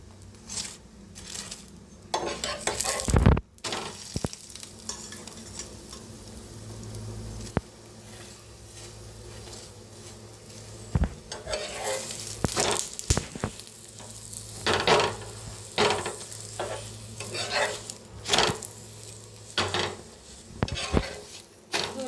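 Brinjal roasts in oil in a pan with a low steady sizzle, broken by frequent scraping, tapping and clattering as it is turned and handled. No one speaks.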